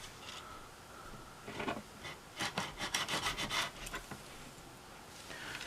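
A not very sharp knife saws through the soft plastic tail of a panfish lure, giving a close, faint series of quick rubbing strokes in a short burst.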